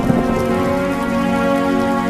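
Steady rain pours down over a farming village in the monsoon season, a dense continuous hiss with no voices, loud and close throughout.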